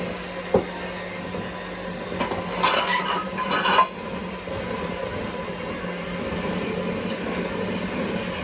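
Soft butter is worked in a mixing bowl for a cake: a few close clinks and scrapes of a utensil against the bowl, then a steady low background hum carries on alone.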